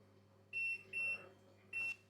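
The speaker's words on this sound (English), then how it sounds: "That's the last beeper." An oven timer beeps three times while a no-knead loaf bakes, short clear electronic tones at close range over a low hum.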